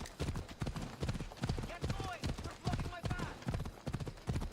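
Horse hooves clip-clop in a steady rhythm from a galloping steed in the Assassin's Creed Odyssey video game, heard under someone talking.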